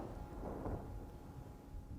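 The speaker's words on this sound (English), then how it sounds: "It's raining really heavy." Heavy rain pours steadily in a rainy-night scene, a dense low wash of hiss and rumble that stays constant and fairly faint throughout, with no voices.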